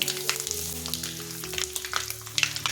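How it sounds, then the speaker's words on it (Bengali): Bay leaf, dried chillies, cumin seeds, mustard seeds and asafoetida crackle and sizzle in hot oil, with a steady close fizz broken by sharp popping spatters throughout and no talking. "তেলটা গরম হলে দিচ্ছি একটা তেজপাতা, দিচ্ছি 2টো শুকনো লঙ্কা, দিচ্ছি একটু জিরে ফোড়ন, দিচ্ছি একটু সর্ষে ফোড়ন আর সামান্য হিং।"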